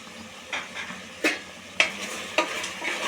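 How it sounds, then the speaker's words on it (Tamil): Vegetables and tomato sizzle in a pan for vegetable biryani as ginger-garlic is stirred in, with a low steady frying hiss broken by several sharp scrapes and clinks of a spoon against the pan. "கிண்டி விட்டுக்கலாம். அடி பிடிச்சிரும், கொஞ்சம் கிண்டி விட்டுக்கிட்டே இருங்க அடிக்கடி"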